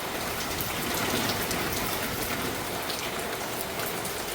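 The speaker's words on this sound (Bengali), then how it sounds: "বাইরে প্রচন্ড বৃষ্টি" Heavy morning rain pours down outside a house. It makes a dense, steady, even hiss that continues the whole time, with no voices.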